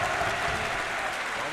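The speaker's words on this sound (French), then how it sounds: "Vous pouvez les applaudir." Fans and a crowd at an esports event applaud the teams Vitality and KCorp. The clapping is steady and dense and forms a continuous roar with cheering voices mixed in.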